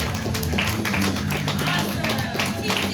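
Comedy club crowd in Las Vegas applauds and cheers in a sustained, dense wash of clapping with scattered sharp claps and some voices mixed in throughout.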